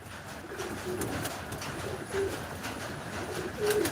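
Two flying-breed pigeons coo softly at moderate distance, giving short intermittent throaty calls over a steady background hiss.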